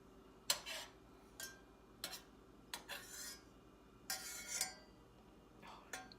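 A spoon scoops and scrapes dried leaves into a cup in a series of faint, separate rustling scrapes and light clinks, close by and quiet.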